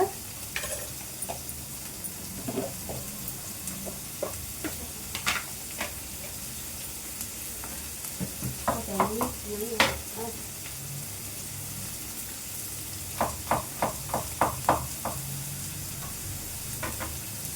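Cut broad beans (avarakkai) with turmeric, salt and garlic sautéing in a pan: a steady low sizzle under scattered stirring scrapes, with clusters of sharper clatter partway through and near the end.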